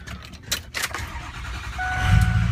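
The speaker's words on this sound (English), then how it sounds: "Now I'm gonna start the truck up." A Ford truck engine cranks and catches near the end of a brief stretch, preceded by clicks and small handling noises, then settles into a low idle rumble.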